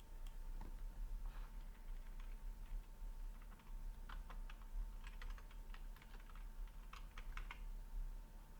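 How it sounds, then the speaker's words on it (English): Keys clatter on a computer keyboard as text is typed into photo-editing software, quiet scattered clicks in uneven bursts over a low steady hum, with no talking. "I'm going to type my text."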